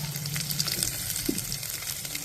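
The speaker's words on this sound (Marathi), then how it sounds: "इथे मी मिरच्या टाकल्या आहेत 4. त्यालाही मी छानपैकी भाजून घेते." Chopped green chillies frying with garlic in a pan for masale bhaat: a continuous soft crackling sizzle with scattered pops, close and fairly quiet, with no voices.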